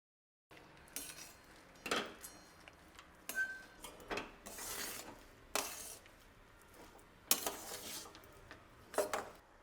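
Roasted peanuts stirred into melted jaggery in a kadai: close, loud scraping and clinking strokes of a spoon against the pan in an irregular rhythm, with quiet pauses between strokes and no talk.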